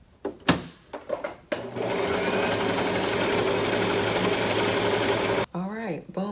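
A sewing machine stitches a tag onto a wig, running steadily and loudly for several seconds after a few brief knocks, then stopping as a voice speaks briefly.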